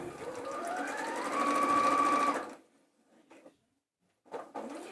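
A sewing machine runs steadily along a raw fabric edge on a Christmas craft project for a couple of seconds, then stops, leaving faint handling noises.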